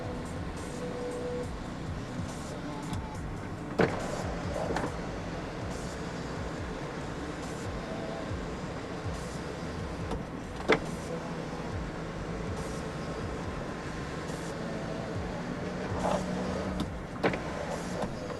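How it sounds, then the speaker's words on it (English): The automatic panoramic sunroof shade motor of a 2017 Volvo XC90 T8 Twin Engine AWD Inscription Plus runs as a steady, low electric whir inside the cabin for the whole stretch, broken by a few faint clicks. "The shade is fully automatic as well."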